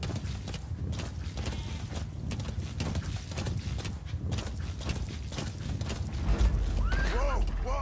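Horse hooves clip-clop in the open-world game Metal Gear Solid 5: The Phantom Pain, a steady galloping patter with creaking tack, mixed under game music and occasional narration.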